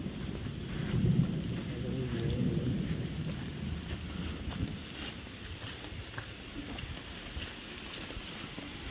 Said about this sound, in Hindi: बारिश बड़ी जोर की आ गई है ना